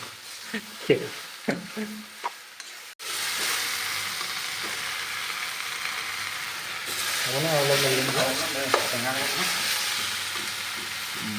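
After a few quiet clicks, a loud, steady sizzle of taro frying in a kadhai-style wok starts abruptly and runs continuously, with stirring scrapes and a voice briefly rising over it near the end.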